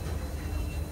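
The Visakhapatnam Weekly SF Express rolls along in a brief, steady low rumble of moving carriages, heard from on board, even and unbroken, with no clear voices.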